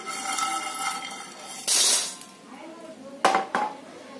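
Roasted Konkani masala spices being scooped out of a pan, with bursts of scraping and a few sharp metallic clinks of spoon on pan, close and clear, with no speech.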